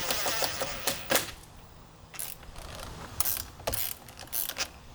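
Tightening a nylon lock nut and washer onto a golf cart mirror bolt gives close, uneven mechanical clicks and ratcheting bursts over a light background hiss, with no talk.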